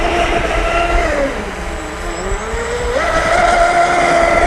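A Volantex Racent V792-4 brushless RC speedboat on a speed pass, a loud whining motor whose pitch dips and then climbs again as the boat passes close by, over water hiss.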